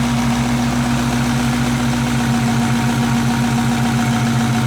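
A Dodge Demon's engine idles steadily up close, a loud, deep rumble with a constant low throb and no talking over it.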